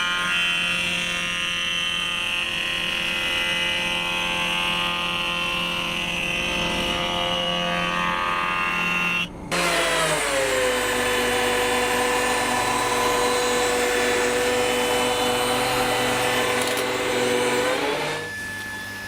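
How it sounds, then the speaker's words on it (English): A surface planer and thicknesser planing wood: a loud, continuous machine roar with a brief dip midway before the cutterhead resumes at a slightly different pitch, running steadily to the end without talk. "plane one side flat on the surface planer and then parallel and flatten the other side in the thicknesser"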